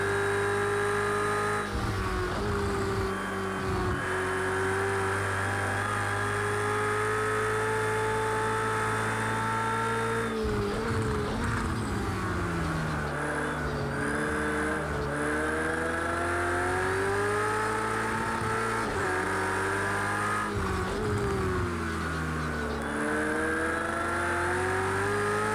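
A Ferrari race car engine in the Project CARS 2 video game howls steadily throughout, rising and falling through gear changes with repeated shifts and downshifts, loud and continuous with no talk.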